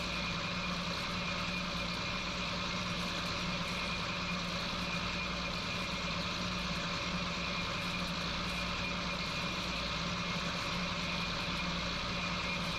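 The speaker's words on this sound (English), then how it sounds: "Running the John Deere 4040 here, by the way, if you're curious what tractor I'm running at the moment." Engine of a John Deere 4040 tractor running in Farming Simulator while baling alfalfa, a steady low droning hum that holds evenly throughout with no talking.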